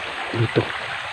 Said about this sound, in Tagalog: Itong spillway na to,